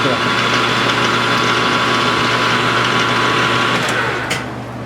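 A metal lathe turns a flywheel with the compound slide close to the part, giving a steady, loud mechanical whir and hum that continues for several seconds, then drops slightly near the end.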